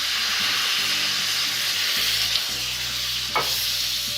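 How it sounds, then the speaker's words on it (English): Wine poured into a hot pan of sausage ragù to deglaze it, giving a loud continuous hissing sizzle with a few soft scrapes and no talking. "And we'll add a little bit of wine just to deglaze everything."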